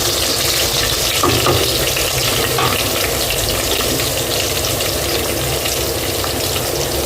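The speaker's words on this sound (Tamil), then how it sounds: "பூண்டையும் நல்லா வதக்கி எடுத்துக்கலாம்" Steady, close sizzling of garlic frying in a hot pan, a constant crackling hiss with no talking.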